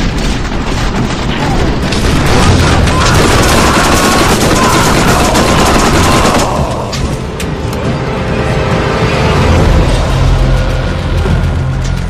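Heavy, continuous gunfire and explosions from the shooter game Borderlands form a loud, dense barrage of rapid shots and booms that runs unbroken throughout, with voices talking underneath.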